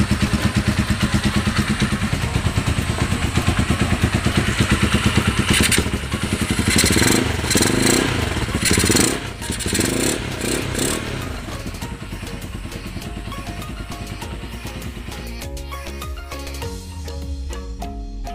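A Kawasaki Z200S motorcycle engine idles at about 1000 RPM during a tune-up, a loud, close, steady putter whose tone shifts partway through and settles into a rougher idle with some clatter.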